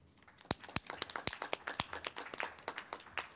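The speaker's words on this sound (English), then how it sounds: "I'd really like to give everyone a round of applause." Scattered audience applause at a conference session, individual claps standing out sharply near the start and then thickening into a steady, moderate patter that continues to the end.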